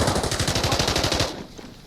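Rapid automatic gunfire in a shooter video game, a loud steady burst of evenly spaced shots lasting over a second before cutting off abruptly, leaving quiet background.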